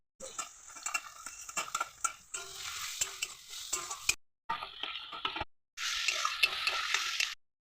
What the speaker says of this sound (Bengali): প্রথমে কাঁচা লঙ্কা কুচি, এটা একটু নেড়ে ফেলে তারপর দিয়ে দেবো টমেটো কুচি।